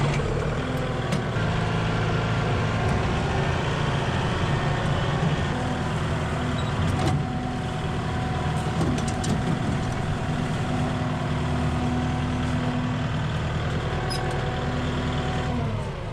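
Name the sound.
tractor being driven down a hill path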